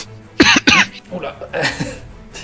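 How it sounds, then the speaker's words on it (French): Two sharp, loud coughs into an elbow close together, followed by softer breathy throat noises and a brief murmured voice. "Je tousse dans mon coude."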